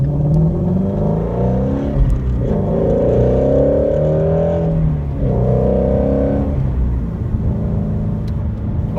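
A Shelby GT350 Mustang engine revs hard several times toward nearly 8,500 RPM, each rising whine climbing in pitch and dropping back, loud and close with no talking.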